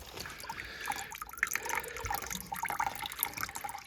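Water trickles and dribbles softly inside household heating pipework as the system refills after a bung is pulled, a faint, steady, uneven gurgle with no talking.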